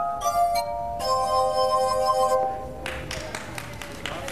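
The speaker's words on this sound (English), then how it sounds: "3 separate instruments, one of which was the glass harp." Glass harp notes ring out with bright, sustained tones in two phrases, followed by a softer wash of sound with light clinking; faint voices sit underneath.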